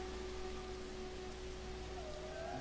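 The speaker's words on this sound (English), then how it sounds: "It seems to be raining on this planet at the moment." Gentle rain falls on an alien planet in No Man's Sky, a soft, even patter with a faint steady hum behind it and no speech.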